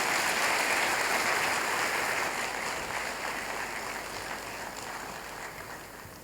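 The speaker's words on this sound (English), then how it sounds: "another round of applause for His Excellency John Dramani in Mahama" Broad, steady applause from a crowd at a formal gathering on African democracy, greeting a speech by former Ghanaian president John Dramani Mahama. The clapping starts full and slowly fades over about six seconds, with no voices.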